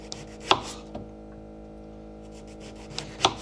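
Knife slicing an eggplant into half-inch rounds on a board, a few sharp separate cuts with quiet rubbing between, close and alone.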